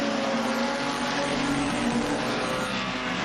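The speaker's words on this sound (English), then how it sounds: "this one a 25 lap event, quite a marathon journey for these race cars" Race cars lapping an oval track during a 25-lap short-track event, a steady loud engine roar with blended revving and passing cars, no talk.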